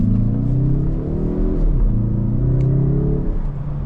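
A 2025 Mazda 3 Turbo hatchback accelerates with a steady, close engine drone whose pitch climbs, dips briefly at a gear change, then rises again, heard alone without talk.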